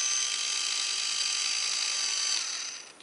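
An electric pedicure foot file with a pumice roller runs steadily and close by, a constant high-pitched whirring buzz that holds for nearly three seconds and then fades as it switches off.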